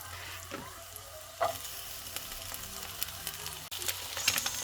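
Onion frying in sesame oil in a hot pan, a close, steady sizzle with small crackles and a few sharper pops, with no voices.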